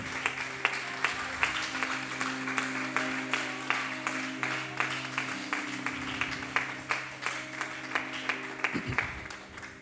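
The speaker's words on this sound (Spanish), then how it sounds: "Denle una ofrenda de palmas al Señor" A church congregation claps in praise during a worship service, a steady, dense patter of many hands spread over the whole stretch, moderately distant, with a low hum of room sound beneath.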